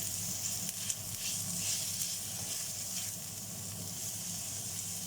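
Chilli and ginger sautéing in a pan, a steady, close sizzle and hiss that holds evenly throughout with faint stirring and no talk over it.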